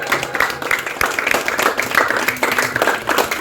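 An audience gives Mr. J a short round of clapping, dense and close, with uneven rapid claps throughout.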